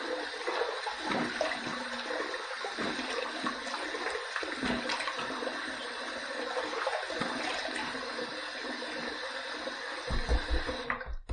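Warm water running from a tap for rinsing during a shave, a continuous splashing hiss that stays steady throughout and briefly surges near the end.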